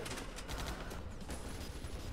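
Rapid bursts of gunfire pour from a shooter video game while the player is under fire, a dense, steady clatter of shots layered over one another, fairly quiet, with no talking.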